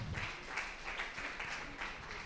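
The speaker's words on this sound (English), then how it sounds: "So please give them a round of applause." Quiet applause from an audience at a secondary schools foundation debate, a steady, muffled patter of clapping heard at a distance.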